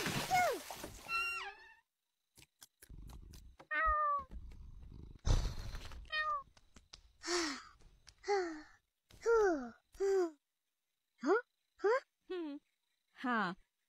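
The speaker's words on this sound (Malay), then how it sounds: "Seronok mandikan kucing." A cartoon cat meows and yowls repeatedly while being bathed, a series of separate rising-and-falling cries with brief pauses between them, mixed with splashing water and breathy sounds at the start.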